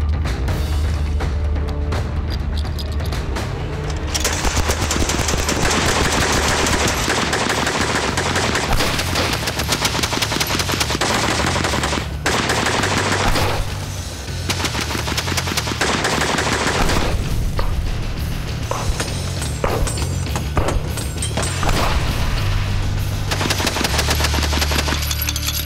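A historic Gatling gun from San Juan Hill fires in long, dense, rapid bursts, loud and near, pausing briefly between strings of shots over about twenty-five seconds.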